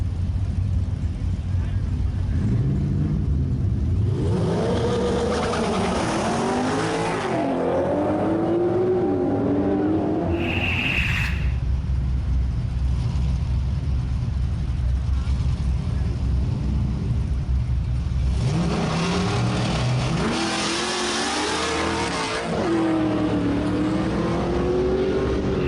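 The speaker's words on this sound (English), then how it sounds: "Let's get things going with the true street race." Street-race cars rev and accelerate at the start of a drag race at Right Way Raceway in the Pikeville Summer Racing Series. Two loud, rising engine surges are heard over a steady background roar, with voices mixed in.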